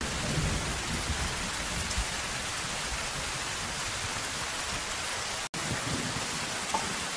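Steady, dense rain falling in a film scene, a constant close hiss of drops on surfaces with a brief dropout near the end.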